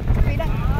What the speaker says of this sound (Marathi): मस्त असं वारा आहे. थंडी वाजते.